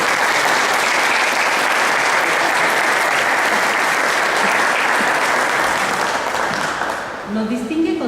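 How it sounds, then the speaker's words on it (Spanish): Loud, dense applause from an audience at a legal conference in a lecture hall, welcoming a judge of the Mexico City superior court; the clapping holds steady for about seven seconds, then fades as a voice begins speaking. "damos la bienvenida con un fuerte y caluroso aplauso"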